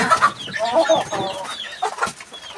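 Several native country chickens and chicks on a rooftop cluck and chirp close by in quick, overlapping bursts, with no pauses.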